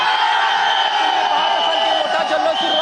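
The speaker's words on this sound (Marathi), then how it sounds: "मोठा जल्लोष सुरू आहे, भारताचा हा मोठा विजय आहे" Cricket fans celebrate India's T20 World Cup final victory over New Zealand, a dense, loud crowd roar of cheering and shouting that holds steady throughout with no pause.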